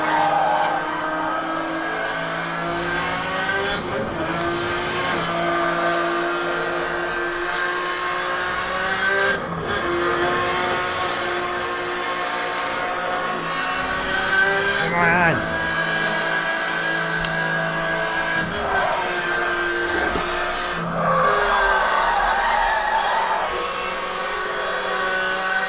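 A race car in a racing video game played with a PXN V9 racing wheel, its engine droning and changing pitch steadily through gear changes, with occasional scraping bumps as the car takes damage.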